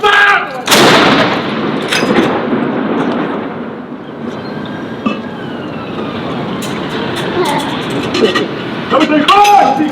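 Ceremonial artillery guns fire a 21-gun salute at Edinburgh Castle, with US and UK soldiers honouring the King. A loud cannon blast booms near the start, then echoes and rumbles roll on beneath shouted commands and crowd noise.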